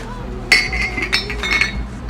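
A drinking glass is set down with a bright clink, followed by a few softer glassy touches as it settles among other glasses nearby.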